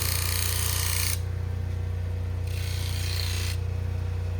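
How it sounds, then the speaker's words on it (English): A polishing wheel spins with a constant low hum while a serrated steak knife is pressed against it in two brief pushes, each adding a bright hissing rasp over the steady motor drone. "now we'll go over here to the wheel, the polishing wheel"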